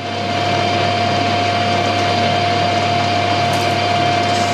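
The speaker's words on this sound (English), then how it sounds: "Just machine the end." A metal bar end being machined on a lathe to make spacers, a steady close whine with a sustained tonal ring and constant motor hum throughout, no voices.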